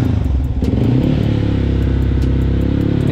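A motorcycle engine idles loudly and close by, a dense low rumble with uneven throbbing and a slight rev partway through, no talking.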